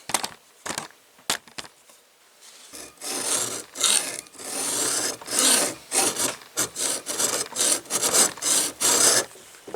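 A hacksaw cutting a sprocket: a few separate rasping strokes at first, then fast continuous back-and-forth sawing with a steady rhythm, loud and close, with no talk.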